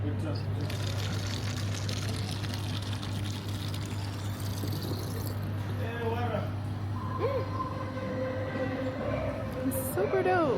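Water runs from a tap in South Africa, pouring and filling steadily under a low hum, while voices speak over it and a faucet-like gush rises near the end.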